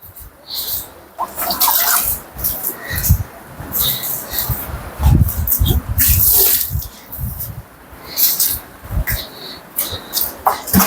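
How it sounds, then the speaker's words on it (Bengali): Water splashed by hand onto a cow's udder during treatment, a run of irregular wet slaps and trickles with dripping in between, close by and fairly loud over background noise. "তো আমি একটু করে নিচে পানি মাইরা দেই।"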